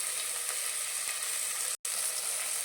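Onion and masalas frying in a pan give a steady, loud, close hiss of sizzling oil that runs unbroken except for one brief cut near the end, with no voices.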